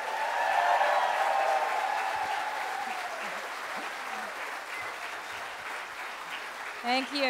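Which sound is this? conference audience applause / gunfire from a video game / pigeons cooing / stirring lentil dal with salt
conference audience applause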